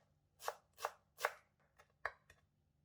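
A knife chops cilantro leaves on a chopping board for the Thai pork salad larb moo. It makes six quiet, crisp strokes, with three steady chops followed by lighter, quicker ones, and no one talks.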